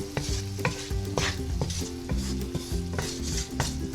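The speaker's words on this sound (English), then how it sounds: "I'm going to add that flour, and this is going to kind of make a roux." Flour cooking into a roux in a pan for linguine with white clam sauce: a steady, close sizzle broken by repeated scraping stirs in an uneven rhythm.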